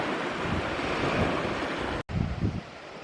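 Sea waves wash onto a beach, a broad continuous roar with gusts of wind buffeting the microphone and a brief dropout near the end.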